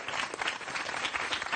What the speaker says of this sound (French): le chef, c'est Morgane que l'on applaudit.